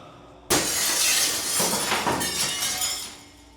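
A heavy object crashes down onto a table, followed at once by cups, dishes and bowls shattering and clattering, loud and close, with a few further breaking bursts trailing off.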